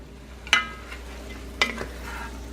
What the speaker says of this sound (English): And rake all those in there, and then we'll let all that cook together for a little while.